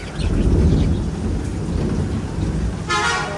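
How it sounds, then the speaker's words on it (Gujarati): Steady heavy rain roars close by, with a low rumble of thunder running through it and a brighter burst of rain noise near the end. "બસાર વરસાદ લાગી ગયો એટલે તો બે ગયા"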